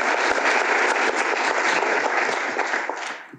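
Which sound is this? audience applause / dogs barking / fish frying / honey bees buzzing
audience applause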